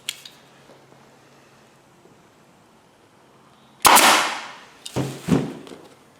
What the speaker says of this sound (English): Even with this staple gun, you do got to put a good amount of pressure on the gun and push to get that staple to go through the